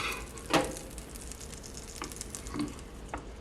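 Butter melting in a Dash Mini Pie Maker gives a quiet, steady fizz and sizzle, with a few soft crackles and pops standing out near and faint.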